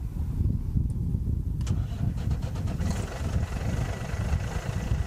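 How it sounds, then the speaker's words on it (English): The diesel engine of a 2005 International 9400i sleeper-cab truck cranks briefly, fires right off and settles into a steady low idle, loud and close. "we're gonna start the engine so that you can hear it run"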